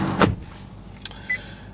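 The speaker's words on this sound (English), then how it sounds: "Close the door." A single muffled thump of a 2016 Nissan Leaf 30kWh car door shutting close by, followed by a faint click and quiet cabin hum.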